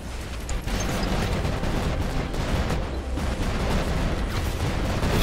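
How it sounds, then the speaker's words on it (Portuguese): Continuous dense gunfire and explosive bursts from robot weapons during a War Robots match on PC, loud and steady throughout with no pauses and no talking. "De onde que tá vindo esses tiros?"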